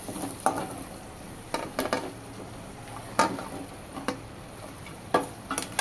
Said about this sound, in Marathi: याच्यामध्ये आता मी लगेच वांगी घालणार आहे